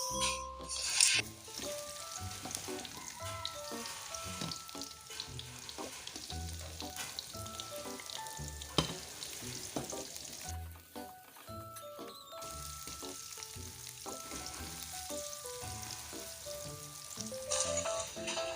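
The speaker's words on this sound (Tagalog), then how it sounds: "Nilagay ko na yung mantika, igisa ang bawang at sibuyas." Garlic and onion sautéing in hot oil in a pan, a steady close sizzle broken by rhythmic stirring clatter and utensil scrapes throughout.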